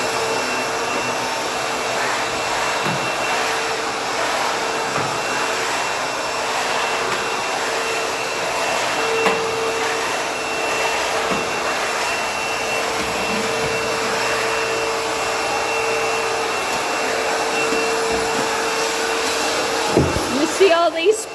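A ProTeam Super CoachVac backpack vacuum cleaner runs continuously while cleaning church hallways, a steady loud whirring drone with a fixed motor whine that holds through the whole stretch, with small bumps and rattles near the end.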